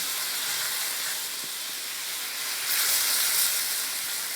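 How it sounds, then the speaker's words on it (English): Meat simmers in soy sauce and oyster sauce, a soft steady hiss of bubbling liquid that swells slightly for a moment, faint and even with no talking. "Then we'll just let this simmer"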